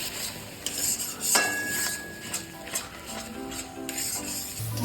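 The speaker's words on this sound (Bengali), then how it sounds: "এখন মশলাটাকে আবার ভালো করে কষিয়ে নেব।" A spice paste of cumin, coriander, salt, turmeric and tomato paste is stirred and fried in a pan for chole paneer, giving soft scraping and rasping strokes with light clinks, steady and close.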